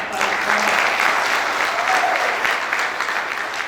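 Audience applause at a success celebration event, dense sustained clapping from a crowd filling the whole stretch, steady and fairly loud with no talk over it.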